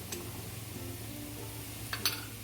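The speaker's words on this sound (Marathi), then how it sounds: "कढीपत्ता टाकला आहे परतून घेऊ छान अर्धा टीस्पून हळद टाकते" Curry leaves and turmeric sautéing in a pan for spicy kat vada curry, a steady low sizzle with light utensil scrapes and a couple of sharp clinks near the end, no talking.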